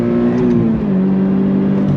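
Engine of a Toyota GR86 during heel-toe downshifting, heard from inside as a loud, steady drone that sags then climbs slightly in pitch, continuous for the whole stretch with no talking.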